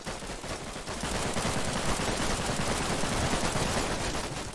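Thompson submachine gun emptying a full magazine in the WWII shooter Warfare 1944, a dense, unbroken stream of rapid automatic fire that starts about a second in and holds steady to the end.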